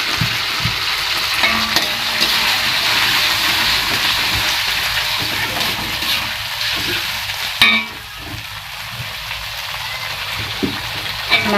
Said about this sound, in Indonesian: nih kita goreng ya, teman-teman. Minyak gorengnya juga udah panas.